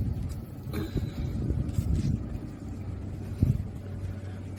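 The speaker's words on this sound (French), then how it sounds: "On entend un petit moteur" A small boat motor drones steadily in the distance, a low rumbling hum mixed with light wind noise on the microphone.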